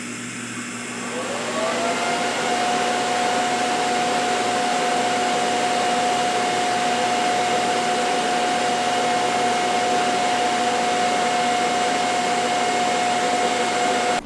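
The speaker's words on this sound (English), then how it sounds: "So we'll start when I start welding." TIG-style welding of two pieces onto a twin-turbo setup for a Chevrolet Malibu under argon shielding gas: a steady, continuous hiss and hum running throughout with a sustained tone, close and fairly loud, no talking.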